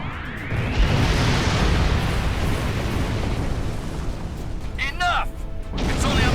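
A Doomsday weapon fires in the Star Trek Online video game, a loud sustained roaring blast with rumbling bursts that fills the whole clip, with a brief electronic whine near the end.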